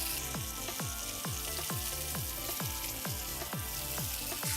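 Striped bass sizzles steadily in hot oil, the frying hiss constant and fairly quiet, with a regular rhythmic scraping or pulsing pattern repeating underneath.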